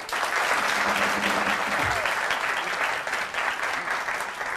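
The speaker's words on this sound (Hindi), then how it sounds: "तालियां अपने लिए खुद ही बजा दो भाई" A live studio audience on a weekend TV show claps for itself, a loud, dense and sustained round of applause with little else audible.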